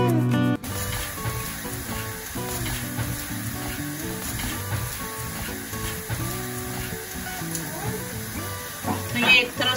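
A paratha fries golden in ghee, giving a steady sizzle and hiss beneath music that runs throughout.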